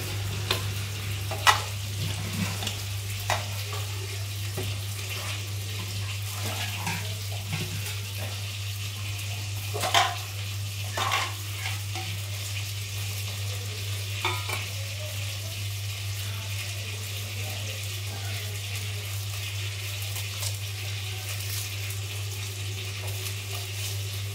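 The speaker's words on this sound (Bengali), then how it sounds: "এখানে সব মাছগুলো ভাজা হয়ে গেছে" Fish frying in a pan in a Bengali home kitchen gives a steady, close sizzling hiss for the whole stretch, with a low hum underneath and a few scattered clinks. No one speaks.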